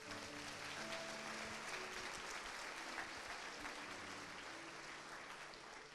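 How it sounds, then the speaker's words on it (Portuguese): A church congregation applauds Jesus during a sermon: dense, steady clapping fills all six seconds, fairly soft and distant, with no voices over it. "Você pode aplaudir Jesus?"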